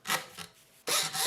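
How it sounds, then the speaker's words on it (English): A locket being sawn in half: two short, close rasping strokes with a pause between them, alone. "Sawing it in half."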